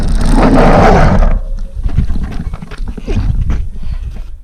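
A shepherd's dog in the Taurus Mountains of Turkey lunges close with a loud, harsh burst of barking and growling up front, then quieter scuffling and rough noises as it backs off.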